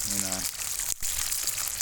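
Steady crackling sizzle of freshwater fish frying in sunflower oil outdoors, close by, with a brief low hum at the start and a momentary dip midway.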